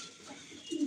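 A pigeon nesting in sawdust gives a soft low coo toward the end, rising over a faint hiss of background noise.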